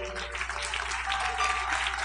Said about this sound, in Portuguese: Os que podem, vamos aplaudir ao Senhor.